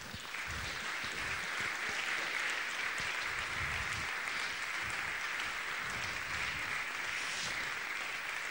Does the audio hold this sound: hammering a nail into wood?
no